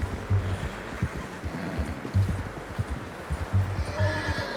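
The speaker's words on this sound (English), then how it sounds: "How's that new horse?" A horse whinnies several times over a steady clatter of hooves and low outdoor ambience, fairly close and loud, in the video game Red Dead Redemption 2.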